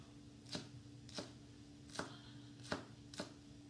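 A knife chops green onions on a board in a caterer's kitchen: five crisp, evenly spaced cuts about every 0.7 seconds, faint and close, over a low steady background hum with no talking.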